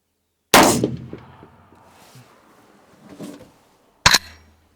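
Two sharp, loud rifle shots fired at a 400 metre range, the first followed by a long rolling echo and a faint distant report, the second a crisp crack about three and a half seconds later with a brief tail.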